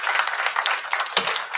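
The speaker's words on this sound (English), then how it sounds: "Let's give him a round of applause for being here." Applause from an audience at a university system board of supervisors meeting, a short burst of dense, fairly close clapping lasting under two seconds.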